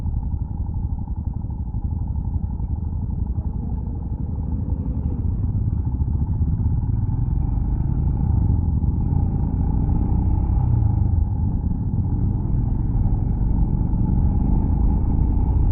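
Royal Enfield motorcycles ride across on a family trip with a steady, loud, close engine rumble that holds without break throughout.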